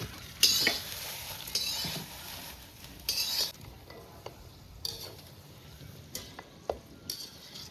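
Turmeric frying in a pan gives a steady low sizzle, with a spoon stirring and scraping against the metal in scattered bursts. A few soft clinks come through, and no one speaks.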